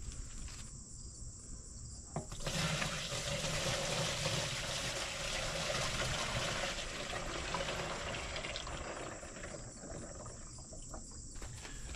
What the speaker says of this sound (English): Dump ourselves another 5-gallon bucket of water in here.